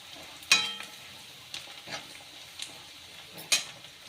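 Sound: red chili powder added to frying brinjal masala in pan

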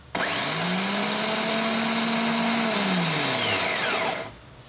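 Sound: Ford starter motor running on jumper cables

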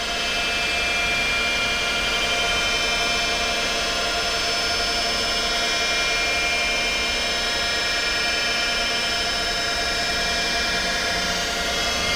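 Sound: Emcoturn 140 lathe spindle motor running

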